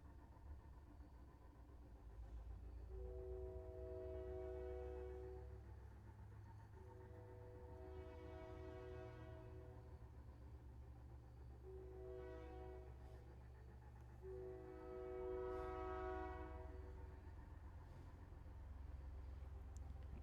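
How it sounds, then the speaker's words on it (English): A train passing outside a closed window at night, faint and distant, with a steady low rumble and several long drawn-out horn blasts sounding in repeated phrases over about twenty seconds. "Train."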